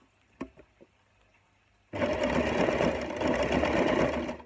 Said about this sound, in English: we can turn the machine on now and go at it mechanically, electronically